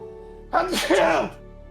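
A single sneeze from a character in the video game Metal Gear Solid 3: Snake Eater, a short loud burst rising and falling over about a second, heard alone over faint game background hum.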